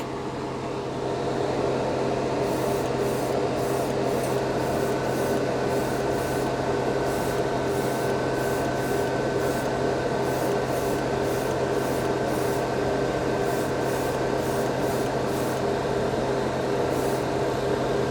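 Steady hissing spray of Mr. Surfacer 1500 primer from a spray can, with a constant mechanical hum underneath, broken by short repeated bursts of airy spray, continuous and fairly loud.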